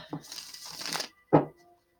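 Tarot cards being shuffled by hand, two papery riffling bursts close up, the second short and sharper after a brief pause.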